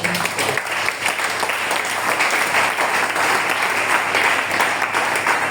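A church congregation claps together in sustained, dense applause during a worship service, filling the room evenly from start to finish.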